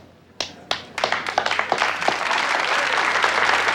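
Courtroom applause during a conspiracy trial of the Chicago 8, opening with a few isolated claps that quickly swell into dense, sustained clapping from a crowd, loud and filling the room.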